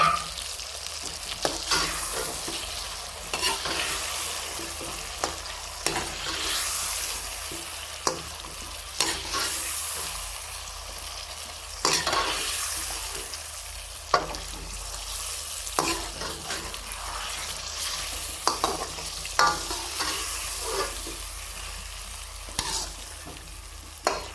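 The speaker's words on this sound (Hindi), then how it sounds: "हम मीडियम आंच पे इनको 3 मिनट के लिए फ्राई करेंगे।" Potato pieces fry with spices in oil over medium heat for aloo pulao, giving a steady close sizzle broken by regular scrapes and knocks of a spoon stirring the pan, with no voices.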